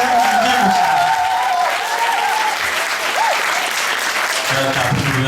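Dense, steady applause from a live audience at a Korean political interview talk show with Moon Jae-in, loud and continuous throughout, with some voices mixed in.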